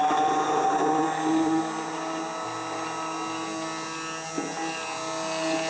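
A blender whirs steadily as it emulsifies chili mayonnaise from oil, running at an even, moderately loud pitch with a slight shift partway through and a small knock near the end, with no one talking.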